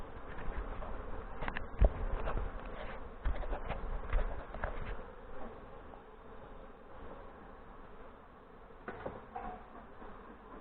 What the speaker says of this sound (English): Bees buzzing all around.